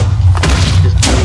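Blocky video-game TNT going off in a burst of mass destruction: a heavy low boom rumbling throughout, with two sharp explosive bursts near the start and about a second later, loud and close.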